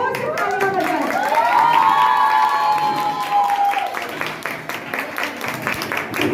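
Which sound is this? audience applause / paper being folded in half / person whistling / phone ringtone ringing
audience applause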